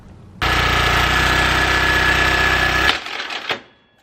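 A Briggs and Stratton engine runs loud and steady in the moments before its failure, a dense droning roar for about two and a half seconds before cutting off into quieter rattling and a fading tail.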